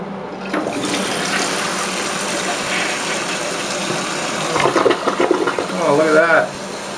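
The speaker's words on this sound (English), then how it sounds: "we got her filled up with water, so we'll go for the old flush test here" A newly reinstalled toilet flushes in a bathroom: a rushing, gurgling gush of water runs steadily for several seconds, swelling louder near the end before cutting off, close to the listener.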